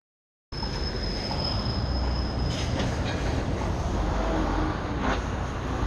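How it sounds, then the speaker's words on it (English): A noisy lift with a worm drive motor, likely in a house in Eindhoven, the Netherlands, runs with a steady, loud mechanical rumble and a thin high whine, with a couple of brief rattling clunks along the way. "This lift's really noisy and sounds like it's got a worm drive motor."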